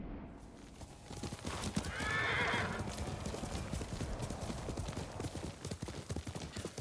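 Rhythmic hoof clip-clop of a galloping horse in the video game Ghost of Tsushima throughout, with a loud whinny rising briefly near the start.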